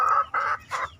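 Laying hens clucking in three short, loud bursts close by, with brief pauses between them and no voices.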